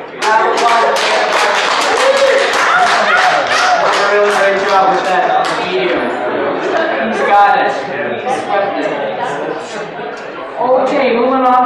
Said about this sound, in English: let's just give round of applause to Jacob